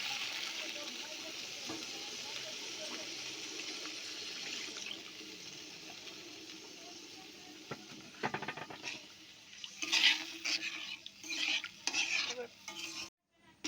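Banana vegetable curry with water simmers in a pan, a steady soft bubbling hiss at first, then closer stirring and scraping with clattering bursts toward the end.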